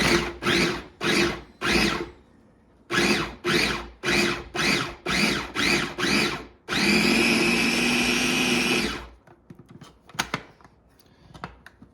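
Food processor whirring in repeated short pulses, then one long continuous run, chopping a mushroom filling for Ukrainian varenyky; loud and close, with no talking.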